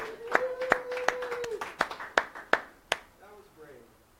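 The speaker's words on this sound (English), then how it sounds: "We got to give Addie a round of applause for that kind of bravery" About eight sharp, evenly spaced hand claps ring out during a Saturday morning science show, closely miked and crisp, with a voice sounding alongside the first few before the claps thin out and stop.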